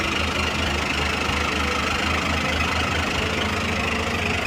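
A Hino six-wheel FB117 truck with a WO4D diesel engine idles close by. The chugging rumble is loud and steady, with an even low knocking rhythm and no talk.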